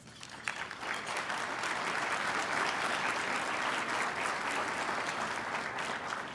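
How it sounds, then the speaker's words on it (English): Sustained audience applause fills a civic awards ceremony hall, dense steady clapping from a large crowd at constant loudness throughout, with no talking over it. "A round of applause."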